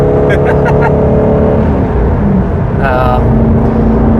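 An Aston Martin Vantage GT8 engine roars loudly and continuously as the car accelerates, with harmonic engine tones shifting through the run and talking heard over it.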